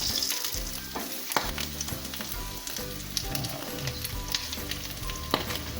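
Marinated pork chops sizzling loudly and continuously in a hot pan, a dense close crackle with occasional sharper pops and no voices.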